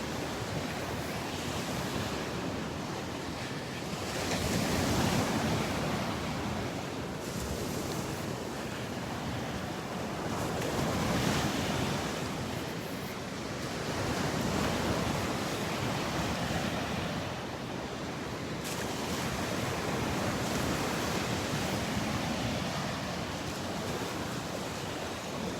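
Ocean waves wash onto the sandy beach at Delnor-Wiggins in a steady rolling surf, swelling and easing every few seconds, with wind buffeting the microphone and no voices.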